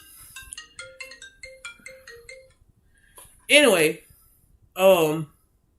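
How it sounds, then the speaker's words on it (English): A phone ringtone plays a quick run of bright electronic beeps in a rhythmic pattern, followed after a pause by two loud, warbling melodic ring bursts, close and clear. "Sorry, y'all, my phone was ringing."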